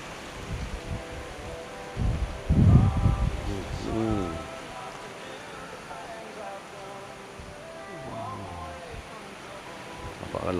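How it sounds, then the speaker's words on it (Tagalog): Strong typhoon wind gusting across a campsite, low rumbling buffets that swell and fade with a faint rain-like hiss, while a person talks over it. "Napakalakas din pa rin ng hangin,"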